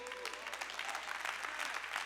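A church audience claps steadily in a dense, faint patter of many hands, heard from a distance and continuing without a break.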